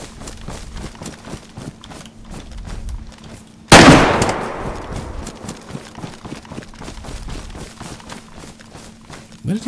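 A single loud, sharp gunshot in DayZ cracks out and rings into a long echoing decay, set against a steady background of rhythmic footsteps and ambient outdoor noise.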